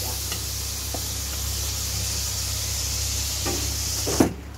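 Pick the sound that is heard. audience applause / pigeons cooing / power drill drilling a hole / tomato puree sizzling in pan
tomato puree sizzling in pan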